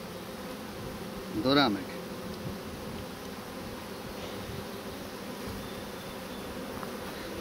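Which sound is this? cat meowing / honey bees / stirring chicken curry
honey bees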